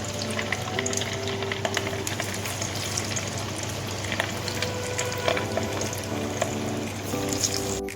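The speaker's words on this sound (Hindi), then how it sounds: "जो बाकी बच गई है मछली उसको भी हम फ्राई कर लेंगे" Pieces of fish frying in oil for restaurant-style Lahori fried fish, a dense, constant bubbling sizzle with scattered pops and crackles, close and steady for the whole stretch.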